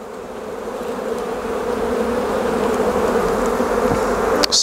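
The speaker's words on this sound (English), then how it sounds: "Scanning the bees again" Dense, loud buzzing of many honey bees close up on a hive frame, a continuous droning hum that swells slightly, ending with a brief knock.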